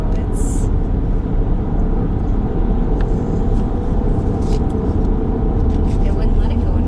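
A 2020 Jeep Cherokee Trailhawk Elite engine driving downhill on a mountain road, with a loud, steady drone of engine and road noise that continues without a break. Voices can be heard talking over it.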